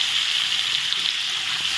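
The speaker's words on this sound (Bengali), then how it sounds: "আলুগুলো ভেজে নেব।" Potatoes frying in hot oil, a dense continuous hiss of sizzling that stays even and close for under two seconds, with no voices.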